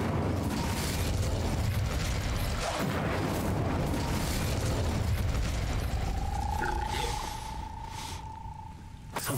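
A fire spell goes off in Hogwarts Legacy, a loud, roaring blast of flame that holds for several seconds. A thin ringing tone rises through the roar before it thins out and fades.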